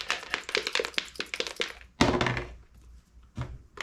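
Dice dropped and rattled in a cup during a tabletop wargame, a quick run of close clicking taps followed by a heavier thunk and a few softer knocks.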